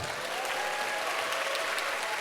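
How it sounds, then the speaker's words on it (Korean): A Korean church congregation claps to welcome first-time visitors, giving a brief burst of dense, even applause from a large crowd that stays loud from start to finish. "우리 박수로 환영합시다"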